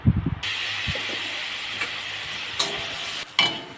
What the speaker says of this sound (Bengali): আলুটা খুব ভালো করে ভাজা হয়ে গেছে।